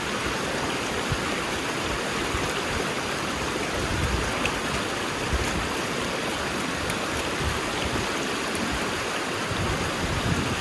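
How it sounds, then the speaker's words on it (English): Water sprays steadily over a carpet mat being washed out in the Keene A52S sluice, a continuous hissing rush with no pauses, close and even in loudness, no voices. "wash that carpet out really good"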